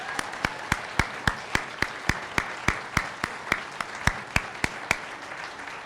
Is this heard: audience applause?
yes